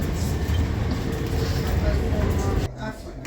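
Steady low rumble and rattle of a moving Class 455 electric passenger train heard from inside a crowded carriage, with a dip in the noise near the end.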